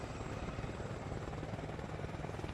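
A giant marine helicopter in the video game Arma Reforger, its rotor chop a steady, fairly quiet drone with no break.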